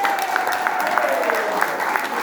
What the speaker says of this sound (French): un applaudissement sincère de votre part